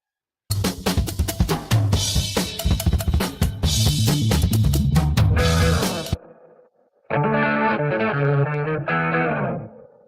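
A recorded rock song with distorted guitars and drums, its final chord cut off to leave a reverb tail ringing out, followed by sustained sung or synth tones.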